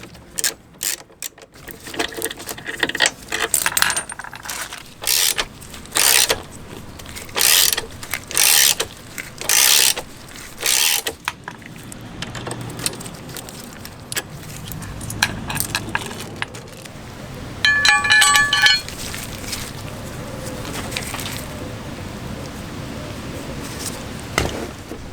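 A ratcheting wrench loosens size 12 bolts on a Hepco & Becker engine guard accessory bar for a Suzuki V-Strom 800. Bursts of rapid metallic clicking come in a regular rhythm, close up, followed by quieter clinks and handling of loose parts.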